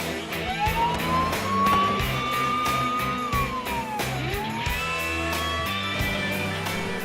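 A police car siren wails in Forza Horizon 3, rising and falling loudly over a roaring game car engine, with rhythmic thumping throughout.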